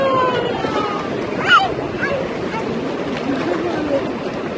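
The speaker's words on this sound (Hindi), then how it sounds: "ये देखें लहरें आ रही हैं" Ocean waves roll in at a seaside viewpoint during a morning walk, a steady broad wash of surf with gusts of wind heard close under a person talking throughout.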